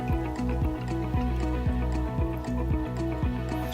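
Liquid fills a bottle for an aquarium CO2 system, heard as a close, continuous gurgling flow with a regular pulsing, ticking rhythm from the filling device running steadily throughout.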